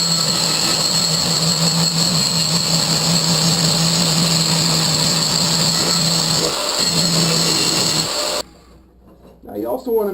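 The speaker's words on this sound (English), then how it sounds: "It's simply the weight of the grinder and the spinning of the wheel." An angle grinder spins its wheel through metal under almost no pressure, a steady high whine with a lower hum running close and loud for about eight seconds before cutting off abruptly.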